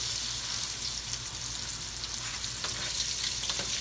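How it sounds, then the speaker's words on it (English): Okra frying in hot oil, a steady dense sizzle that holds evenly throughout with faint crackles near the end, no voices. "This okra takes no time at all to cook."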